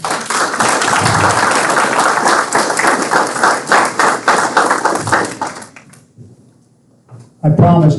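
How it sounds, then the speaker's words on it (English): Audience applause at a Veterans Day ceremony held at VFW Post 1308, a sustained wash of clapping for about six seconds that thins into scattered claps and fades, followed by a voice beginning to speak. "Let's have a round of applause for all of our presenters."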